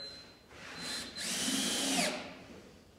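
A power drill drives a coated decking screw into the wood of a beehive box: a faint whine, then a louder rising whir that bogs down as the screw seats, close and alone.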